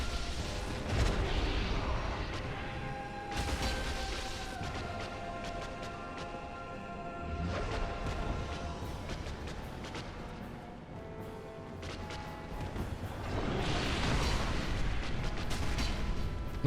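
Explosions in the Dark Souls video game come as several heavy booming bursts with crashing decays, spread over a stretch of quieter game ambience and heard moderately loud.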